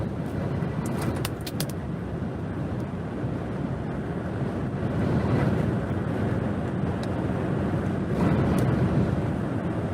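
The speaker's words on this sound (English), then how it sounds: "Wow! Big gust." Strong, sustained hurricane wind roaring and buffeting a microphone at landfall, a broad continuous rush that swells louder midway and again near the end, with no talking.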